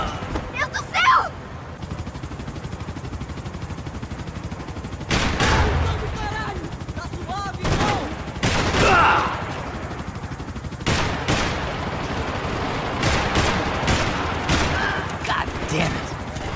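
Max Payne 3 gunfire, loud bursts of automatic fire and sharp single shots coming in irregular clusters, with shouting voices mixed in among the shots.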